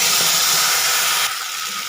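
Ginger, green chilli and dry chilli paste hits hot oil with tempered spices for a vegetarian paneer dish, a loud, close, steady hiss that drops noticeably in level partway through, with no speech.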